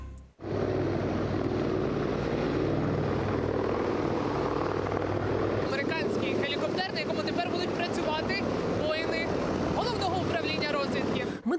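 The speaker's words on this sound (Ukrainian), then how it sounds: "Тактичний гелікоптер Сікорський С-76 Альфа призначений для гуманітарних місій та медичної евакуації." A Sikorsky S-76 Alpha tactical helicopter, built for humanitarian missions and medical evacuation, gives off a loud, steady rotor and engine roar throughout. A voice talks over the noise in the second half.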